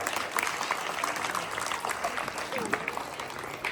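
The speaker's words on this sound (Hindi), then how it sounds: "सब लोग जोरदार तालियां बजाएं।" Applause from a crowd at an Indian political gathering welcoming a guest, a dense continuous patter of clapping with voices mixed in beneath.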